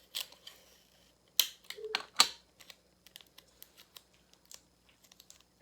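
Loops of tape pressed onto both sides of a folded paper pop-up fan, giving quiet close crinkles and sticky tearing bursts followed by a run of small, faint taps and clicks.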